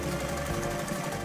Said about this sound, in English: Sew the patterns.